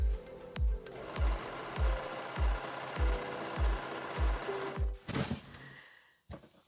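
A sewing machine stitching a section of a plaid skirt, running in a steady series of about a dozen rhythmic bursts close up, then stopping with a few clicks and rustles.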